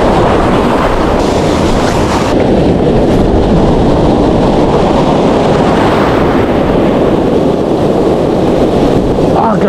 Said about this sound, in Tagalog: Ah, grabe yung alon, no?